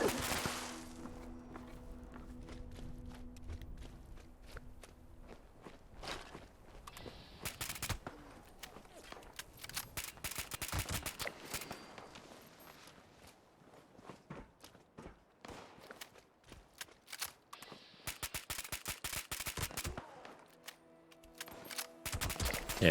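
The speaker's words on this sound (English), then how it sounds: "any weapon, we're not crippling them in any way, we're just shooting them" Weapons fire at super mutants in Fallout 76, heard as repeated sharp shots in scattered clusters and some longer rapid bursts over quiet game ambience, with a voice talking at times.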